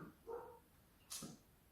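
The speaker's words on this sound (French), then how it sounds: "Excusez-moi pour le chien," A dog in a home gives two faint, short barks or yips separated by a pause, distant and quiet against an otherwise still room.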